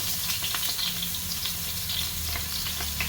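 Garlic, ginger and onion sizzle in hot oil in a pan, a dense steady crackle with scattered pops and stirring scrapes, close up with no talk.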